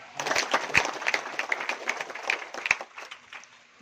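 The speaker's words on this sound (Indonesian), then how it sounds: "Tepuk tangan." Scattered clapping from a crowd at an outdoor political rally, a patchy burst of hand claps that swells and then thins out, fairly light and uneven rather than a full roar.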